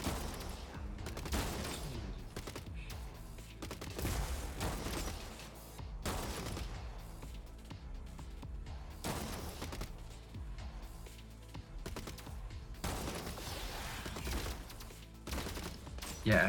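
Shotguns fire in the Gladiabots robot strategy game, a series of booming bursts that repeat about every two to three seconds over dense game sound.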